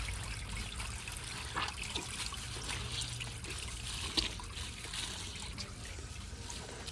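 A 1979 Crane Radcliffe vintage toilet during a flush test, steady faint trickling and running water with a low, rushing undertone, close and continuous.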